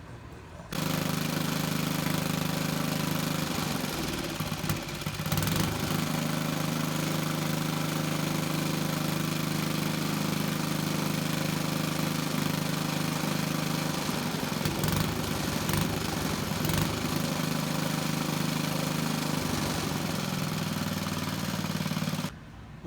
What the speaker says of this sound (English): Today we've got a 1972 Rupp Sprint engine on the dyno.